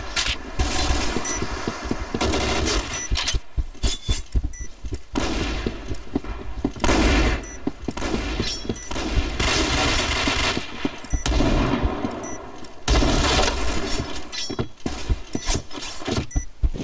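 Rapid automatic gunfire from a shooter video game on a public server, loud, dense bursts of machine-gun shots with brief gaps between volleys, continuing throughout with sharp cracks and no talking.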